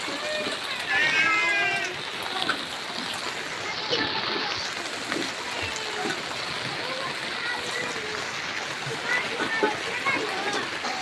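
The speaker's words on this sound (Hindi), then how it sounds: "देखिए दोस्तों ये लाडो क्या पानी उपच रही है।" A cat moves through rainwater that has flooded a house after a night of heavy rain, with soft splashing and sloshing, several meows, and a person talking over it throughout.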